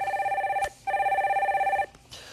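An incoming call rings on a live Korean stock-market broadcast phone-in: two loud, steady electronic telephone rings, the second longer, with a short pause between them and no talk over them.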